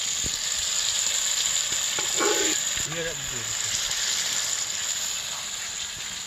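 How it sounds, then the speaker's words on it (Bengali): Soaked halim mix tipped into fried spices in a pot over a clay stove, producing a steady loud sizzle throughout with a few stirring scrapes, while a voice talks faintly over it. "এই যে হালিম মিক্সটা ভিজিয়ে রেখেছিলাম এখন আমি এটা দিয়ে দেব কষানো মশলার মধ্যে দিয়ে দিলাম"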